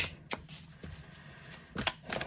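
Tarot cards being shuffled, producing a few quick riffling flutters and soft snaps at irregular intervals, close and quiet.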